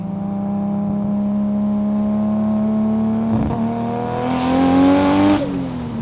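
An 800 HP Nissan Skyline R32 GTR accelerating hard, its engine note climbing steadily in pitch as it pulls through the revs, loud and close, then swelling into a rush before easing off near the end, with no voices.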